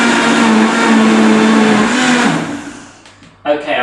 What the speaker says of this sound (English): I've blended that for maybe about 30 seconds